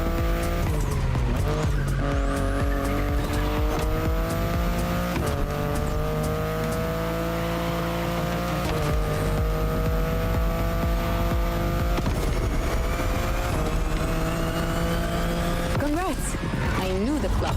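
A car in The Crew Motorfest drives hard, its engine holding a steady loud drone with gear-shift dips and rising revs, tires squealing through corners, while a voice talks over the driving.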